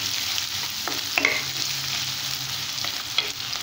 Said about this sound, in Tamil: அடுத்தது வெங்காயம் சேர்த்துக்கலாம். வெங்காயம் நல்லா வதங்கிடும்.